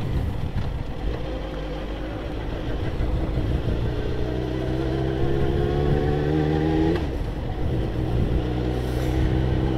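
A Yamaha XJ6 motorcycle engine runs with a steady, throaty rumble, rising in pitch as revs climb and then dropping briefly before settling again, loud and close.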